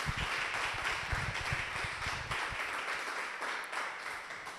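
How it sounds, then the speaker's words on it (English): A crowd at a school board candidates forum in a community center applauds at length, a steady, moderately distant wash of clapping that tapers off toward the end with no voices over it. "Another round of applause to our school board candidates."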